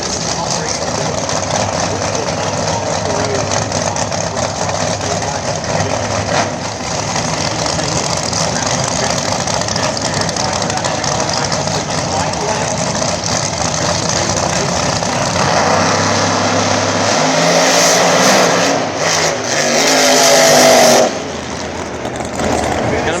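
Pro mod drag racing cars, including a newer model Camaro, roar loudly and steadily at the track, with engines surging and revving near the end while an announcer talks over the noise.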